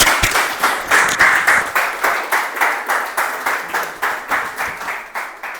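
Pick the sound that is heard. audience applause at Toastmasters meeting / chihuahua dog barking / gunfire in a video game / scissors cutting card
audience applause at Toastmasters meeting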